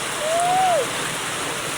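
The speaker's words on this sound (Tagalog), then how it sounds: "Malakas talaga yung ulan" Heavy rain during Typhoon Kristine, a dense steady hiss of downpour filling the whole stretch, loud and close, with a brief rising whistle-like tone partway through.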